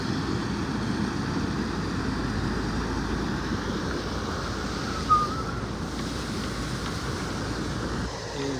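River water rushes steadily with wind blowing across the microphone, a broad continuous wash of noise with no speech, holding constant throughout.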